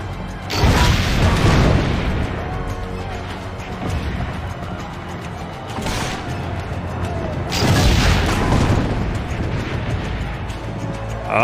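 Heavy cannon fire in Assassin's Creed Brotherhood, deep booming blasts arriving in a few loud waves with rumbling aftermath and clattering battle noise between them.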